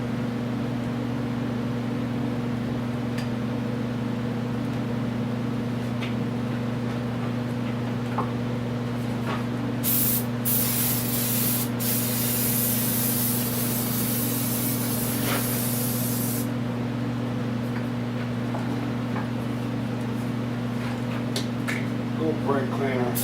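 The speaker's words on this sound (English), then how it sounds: "Brake cleaner." A long hiss of brake cleaner spraying onto engine hoist parts, about six seconds of loud continuous spray over a steady background hum, with a few shorter bursts around it.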